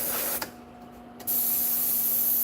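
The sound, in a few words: spray painting model vehicle rims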